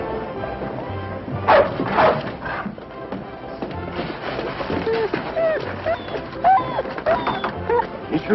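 A dog barks and yips a few times at moderate distance amid busy background sound, with birdlike cooing and voices mixed in throughout.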